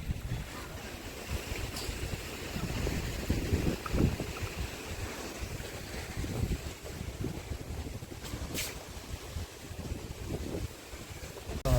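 Strong gusty wind buffets the microphone in a continuous roar, with a dense rushing wash like heavy rain throughout.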